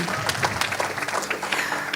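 A church congregation applauding and cheering during worship, with dense, steady clapping spread across a crowd mixed with voices, moderately loud throughout.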